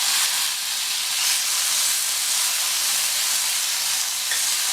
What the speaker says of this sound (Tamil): இந்த பூண்டை லைட்டாக வதக்கி விட்டுட்டு அது கூட மீடியம் சைஸ் தக்காளி கட் பண்ணது ஒன்று